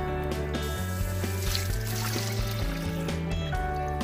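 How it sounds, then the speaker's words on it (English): A garden hose runs water into a plastic tub of guppy fry, giving a steady splashing trickle with a low, continuous rumble throughout. "Now it's time to put in some water."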